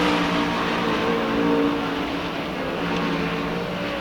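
Sprint-style race cars lapping the dirt oval at Knoxville Raceway, a steady, loud engine drone with whining harmonic tones rising and sliding as the cars run the track, no voices over it.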